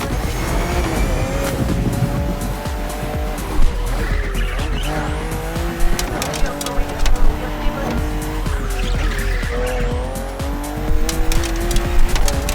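BMW M car in The Crew Motorfest racing game, engine note rising and falling with repeated loud tire squeals and skids across the whole stretch, racing-game effects heard close with no speech.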